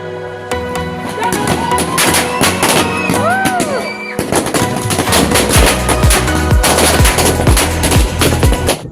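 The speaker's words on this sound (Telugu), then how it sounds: "స్వామివారిని మండపం తీసుకొచ్చే ముందు చిన్నగా క్రాకర్స్ పేల్చి సెలబ్రేట్ చేసుకున్నాము" Firecrackers burst in rapid machine-gun-like strings during a Ganesh Chaturthi celebration, loud and close, continuous crackling across the whole stretch with a brief break midway.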